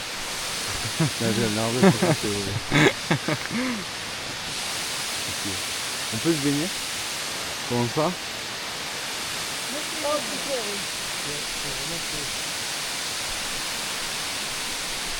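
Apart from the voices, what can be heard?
waterfalls, the three cascades in Tahiti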